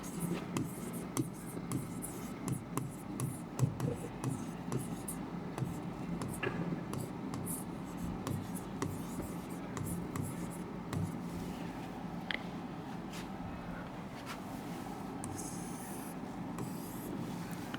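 A teacher writes a scientific name by hand during a lesson, producing continuous close scratching and tapping strokes of pen on a surface with rhythmic rubbing, faint whispery breaths and occasional soft ticks throughout.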